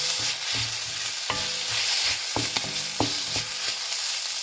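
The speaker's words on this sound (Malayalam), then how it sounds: "അരിഞ്ഞ് വെച്ച ഇഞ്ചി അതിലേക്ക് ഇട്ട് കൊടുക്കാം, കറിവേപ്പില ഇട്ട് കൊടുക്കാം, ചെറിയ ഉള്ളി ഇട്ട് കൊടുക്കാം, പച്ചമുളക് ഇട്ട് കൊടുക്കാം." Ginger, curry leaves, shallots and green chillies sizzle steadily in hot coconut oil for a Kerala puli inji, with a spoon repeatedly scraping and clacking against the pan in an irregular stirring rhythm, close and clear with no talk.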